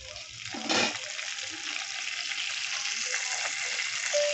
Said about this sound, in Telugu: కడాయి పెట్టి అలా నూనె పోసిన నూనె పోసి ఒక కొన్ని జీలకర్ర జీలకర్ర వేస్తున్నా